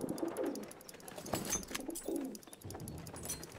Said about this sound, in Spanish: Hemos enviado la paloma.